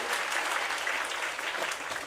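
An audience at a school annual day celebration applauding and cheering loudly and continuously, a dense wash of clapping throughout.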